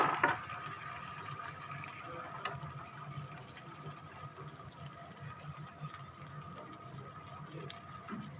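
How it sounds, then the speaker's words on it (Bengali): Water being poured into a pan of simmering fish curry, a soft steady trickle and bubbling heard up close and fairly faint. "ঘরের পানি দিয়ে দিচ্ছি।"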